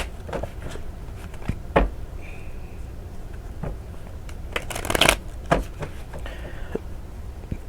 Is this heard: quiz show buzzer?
no